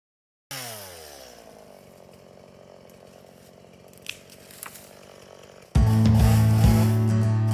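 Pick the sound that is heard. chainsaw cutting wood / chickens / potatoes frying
chainsaw cutting wood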